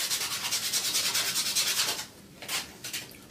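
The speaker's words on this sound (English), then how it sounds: "Clean up with some sanding paper." Sandpaper rubbed along a wooden arrow shaft fitted with a horn sliver: a steady run of quick, close back-and-forth scratchy strokes for about two seconds, then a pause and a few more strokes, with no talking.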